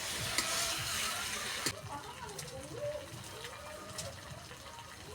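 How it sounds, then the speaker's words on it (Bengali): Khoira fish rubbed with turmeric and salt frying in a pan while being stirred, a steady close sizzle with scraping and clatter, easing slightly partway through and continuing with faint voice-like sounds beneath. "এখন মাছগুলোকে একটু নেড়ে চেড়ে দিচ্ছি।"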